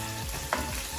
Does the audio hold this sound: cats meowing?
no